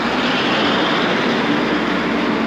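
Dual motors of a Lankeleisi X3000 Max electric bike, a 2000W machine, give a steady, loud whirring drone with rushing wind noise while riding along under throttle, unbroken throughout.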